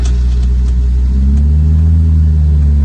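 A car engine idles and rumbles steadily at close range during a driving lesson as the clutch is released, with a low, continuous drone holding even throughout and no one talking.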